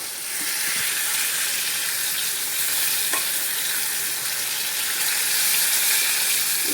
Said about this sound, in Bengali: পটলগুলো ভাজা হয়ে গেছে, এই যে পটল, এগুলো ভেজে নিচ্ছি